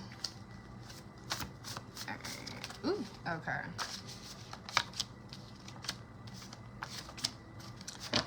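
Tarot cards shuffled in repeated crisp riffling bursts, close by, with a brief spoken exclamation partway through.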